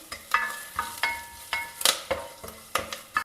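Pepper, ginger and garlic roasting in ghee with hing and crushed black pepper, giving a steady close sizzle broken by repeated sharp scrapes and clicks of a spoon stirring the pan, with no talk.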